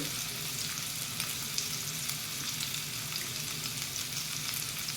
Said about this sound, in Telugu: స్పూన్తో కాకుండా ఫోర్క్తో కలిపితే కనుక గడ్డలు లేకుండా ఉంటుంది